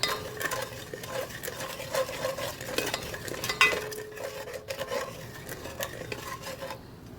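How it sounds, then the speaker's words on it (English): Curry powder toasting in a pan while a utensil stirs and scrapes it repeatedly, giving soft rhythmic scraping over a low steady sizzle, close by with no talk. "What you're doing, you're just cooking some of that rawness from all this curry powder"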